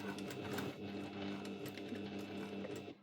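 A home sewing machine runs close by while stitching across the base of a fabric key fob, a steady rapid whirring that pulses slightly and stops just before the end.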